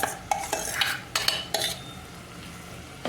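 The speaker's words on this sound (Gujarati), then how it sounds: "આપણે એને પણ હલાવી નાખશું" A spoon stirs roasted brinjal bharta in a pan, giving several short scraping strokes with a light sizzle beneath, close and fairly quiet, with no talk.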